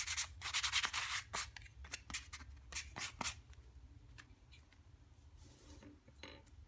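Sandpaper rubs over a wooden swing seat and frame in quick back-and-forth strokes, the scratchy bursts loud at first then lighter and sparser, with no voices.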